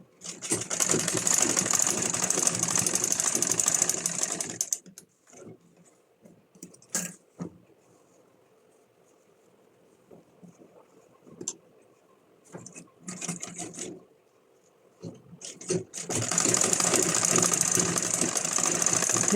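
Electric sewing machine stitching the corners of a denim bag made from an old jeans skirt, a steady whirring run at the start, scattered clicks and handling in the quiet middle, then another sustained run at the end.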